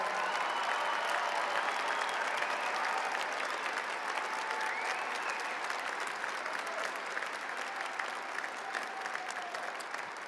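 Sustained applause from a large graduation ceremony audience, dense and steady clapping filling the hall for about ten seconds with faint crowd murmur underneath, gradually easing slightly toward the end.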